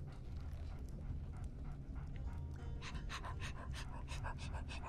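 A dog pants rapidly in the Game of Thrones video game, fast rhythmic huffs that grow louder and more pronounced toward the end, heard close and alone.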